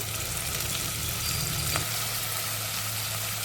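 Onions frying in oil with salt for a white brinjal curry, a steady close hiss of sizzling oil with a low hum underneath and a faint stir partway through.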